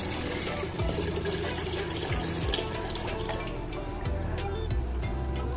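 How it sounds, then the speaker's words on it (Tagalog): Water runs steadily from a tap into a pressure cooker holding beef for Filipino beef soup, a continuous splashing, gurgling flow with faint dripping, close and fairly loud throughout. "Lagyan natin ng tubig para palambutin."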